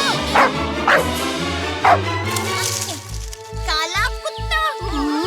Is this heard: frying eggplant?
no